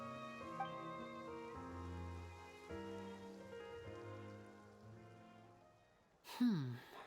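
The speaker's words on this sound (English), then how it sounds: "It rained for longer than I suspected." Steady rain falls in Genshin Impact, a soft patter under sustained background music, with a short vocal-like sweep near the end.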